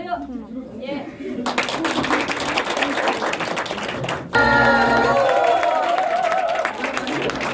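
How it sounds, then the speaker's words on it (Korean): An audience applauds at an academy branch opening performance, clapping swelling loudly after someone speaks, then continuing as a steady wash of claps and crowd noise. "박수 한번 주시기 바랍니다."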